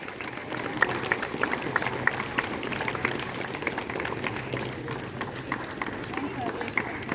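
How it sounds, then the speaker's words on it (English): Children and staff applauding at a school Independence Day celebration, a steady dense patter of clapping sustained throughout under crowd noise. "Applause, children."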